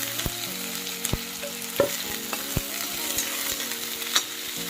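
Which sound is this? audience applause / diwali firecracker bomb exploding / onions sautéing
onions sautéing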